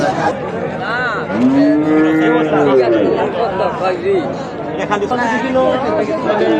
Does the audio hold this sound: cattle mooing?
yes